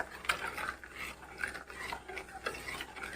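Spoon stirring sugar into milk in a pan for paaluda, a Kannur sweet drink, giving soft repeated scraping and clinking strokes at close range, steady and quiet with no talk.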